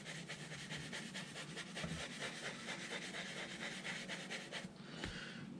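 Steady, soft rhythmic rubbing of leather dye into a car seat, quick back-and-forth strokes close up and continuous, ending with a brief pause.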